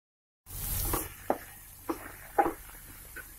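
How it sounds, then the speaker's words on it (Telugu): Onions with ginger garlic paste fry in a pan with a soft, steady sizzle, broken by a few sharp stirring scrapes at uneven intervals. "ఇది కొంచెం పచ్చివాసన పోయేదాకా 2 నిమిషాలు ఫ్రై చేసుకోవాలి."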